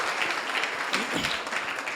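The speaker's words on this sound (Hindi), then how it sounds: "मैं बहुत बहुत जोरदार तालियां बाबूजी के लिए।" An audience at a talk on grassroots innovation gives a loud, dense round of clapping that stays steady and sustained for the whole stretch.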